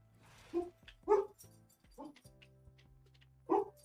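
A dog in the survival video game Scorched Earth gives a few sharp barks and yips spaced irregularly, moderately close, over a faint low hum of game ambience.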